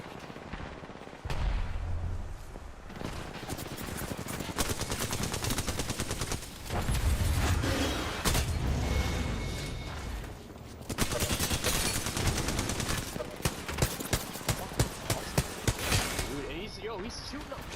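Dense rapid video game gunfire, bursts of automatic shots rattling almost continuously and loudly, ending in sharper single reports, with a person talking over parts of it.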